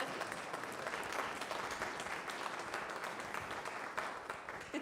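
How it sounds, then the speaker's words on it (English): Audience applause fills the room at a guest speaker and musician's event, a steady wash of many hands clapping at moderate level with no voices standing out. "that deserves applause"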